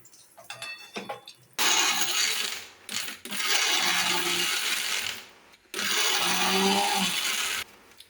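A mixer grinder whirs loudly in three short bursts with pauses between, grinding fried chillies and curry leaves, with clicks and handling noises at the start.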